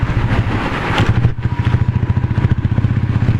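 A Royal Enfield Classic 350 rides through Delhi, its single-cylinder exhaust thumping in a steady, close, even rhythm with no talking.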